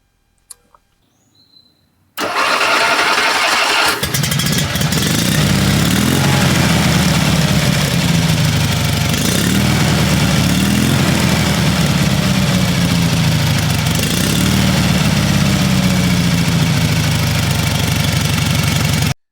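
A 1972 Fiat Abarth 500 engine catches after a brief quiet moment and settles into a loud, steady idle with a slightly uneven, throbbing pulse that continues alone to the end.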